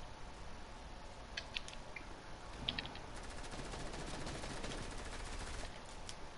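Gunfire from a shooter video game, a faint rapid burst of shots over a steady noisy background, distant and low in the mix with no talk.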